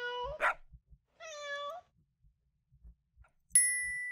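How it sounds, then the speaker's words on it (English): Cartoon cat meows in the video game Spinster: A Cat Lady Game, two short rising mews amid soft thumping footstep clicks, ending with a bright chime-like ding. "There's another cat."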